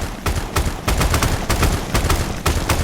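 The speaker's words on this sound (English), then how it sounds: "Who is shooting at me?" Gunfire rattles in the shooter game Incoming Storm, loud, close bursts of rapid shots coming in several sharp volleys over a few seconds with no talk.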